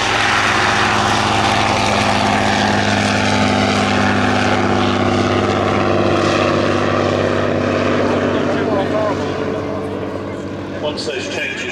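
A Bristol F2.B Fighter, an original World War One biplane with a Hispano-Suiza licence-built engine, drones steadily with its propeller engine, a loud continuous throbbing roar that holds throughout and eases slightly near the end, with talk over it.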